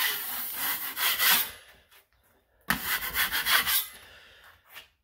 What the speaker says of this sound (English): I'll quickly just sand these little bits here.